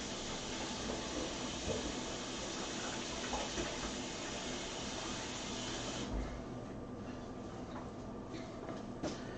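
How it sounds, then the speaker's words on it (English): Hands rinsed under a running kitchen tap while cooking German food: a steady, close rush of water that flows without a break, thinning slightly toward the end, with no talking. "As you can tell, I always wash my hands when I'm cooking."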